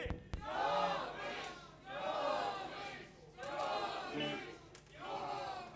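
A concert crowd shouts a bassist's nickname together in four loud, evenly spaced chanted bursts, voices blending into one roaring unison with brief dips between calls.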